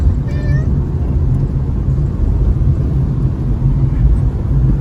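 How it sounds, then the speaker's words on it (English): A cat lets out a short meow near the start, heard over a loud, constant low rumble of background noise. "Charlie, meow. Meow."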